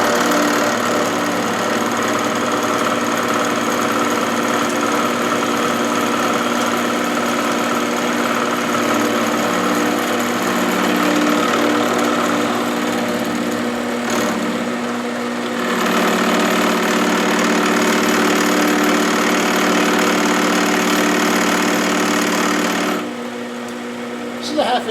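A metal lathe on a Hamilton 6-inch machine takes a cutting pass with a half-inch cutter while a new half nut is made, giving a loud, steady mechanical drone with a whining edge that dips briefly midway and cuts off near the end.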